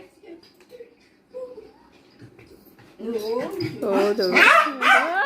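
A dog barks and yips close by in short excited bursts, growing louder toward the end, while people talk around it.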